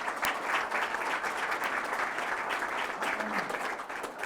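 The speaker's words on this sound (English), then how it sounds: "let's give our presenters another round of applause." Sustained applause from a crowd at a legislative breakfast, a dense steady patter of many hands clapping at even loudness throughout.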